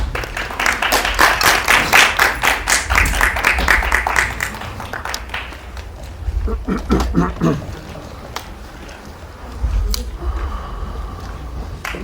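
An audience at a Korean press screening and Q&A for a documentary film claps in a dense burst for about four seconds, then thins into scattered, fading claps with quieter gaps.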